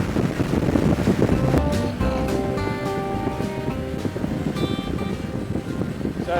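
Wind buffets a moving vehicle on a desert highway from Nevada into Arizona, a gusty roar and rumble over road noise, with tonal whistles and a few knocks.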